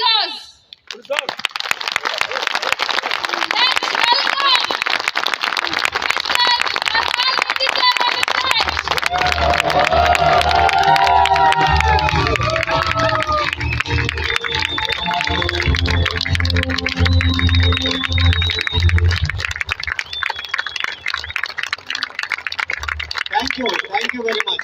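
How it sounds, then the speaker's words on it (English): An audience at a company meeting in a Goa beach resort breaks into loud, sustained applause and cheering to welcome a director to the stage, with dense clapping and crowd voices lasting about twenty seconds before fading. "with a big round of applause, let's welcome"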